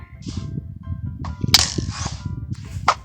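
Arrows shot at the player in Minecraft while exploring the Nether: a couple of sharp, close twangs and thuds over rumbling game ambience and background music, with no talking.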